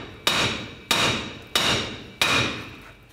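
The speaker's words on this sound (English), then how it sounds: "Or carefully, just use a hammer and give it a tap." Four sharp metallic hammer taps on the lower ball joint nut of a 2007-2014 GMC Sierra 3500 HD, evenly spaced about two-thirds of a second apart, each ringing briefly before fading.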